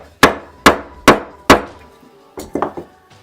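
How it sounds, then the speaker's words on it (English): A wooden whacking stick strikes to seat a spalted oak piece on a lathe, giving four loud, evenly spaced hard knocks followed by a quicker cluster of lighter taps. "And the old whacking stick."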